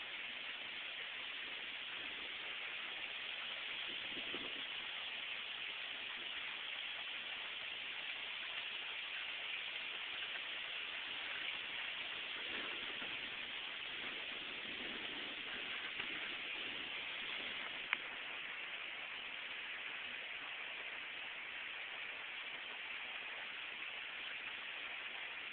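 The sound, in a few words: heavy rain falling on the ground during a thunderstorm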